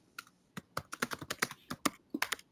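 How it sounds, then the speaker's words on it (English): Steady typing on a computer keyboard, a rapid uneven run of crisp key clicks close to the microphone, with no voices over it. "And I can hear you typing,"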